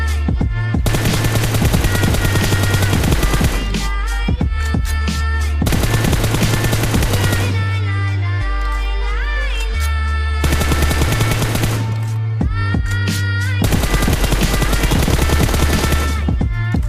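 Rapid automatic gunfire in a Free Fire match, long loud sustained bursts broken by short pauses, with heavy game music throbbing underneath and no voices.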